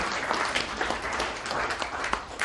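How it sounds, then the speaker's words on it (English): An audience claps steadily as Lord Swraj Paul arrives at a formal reception, a brief, fairly close patter of many hands with no voices standing out. "Let's keep clapping while he comes"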